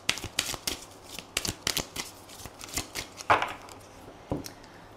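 Oracle cards being shuffled by hand, a quick run of crisp riffling and slapping bursts, close and fairly quiet, with no talking.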